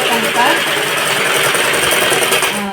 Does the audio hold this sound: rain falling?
no